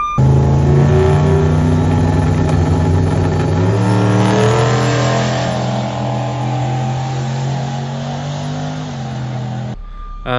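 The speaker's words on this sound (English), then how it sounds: "there's a loud truck coming" A loud, close vehicle engine with a steady droning hum that shifts pitch partway through, continuing nonstop for about ten seconds before cutting off abruptly.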